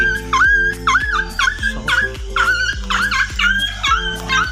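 A dog caught on its leash whimpers and yips in a repeated series of high, wavering cries, close by, with steady low background sounds underneath.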